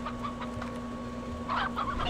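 Baby chickens in the video game Slime Rancher cluck softly in short bursts over a steady background hum, with the clucking growing busier toward the end.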